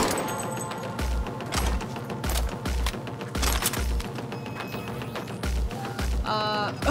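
Gunfire in the video game Cyberpunk 2077, a series of heavy, evenly spaced shots with deep thumping impacts, loud and close, with a bright electronic chirp near the end and no talking.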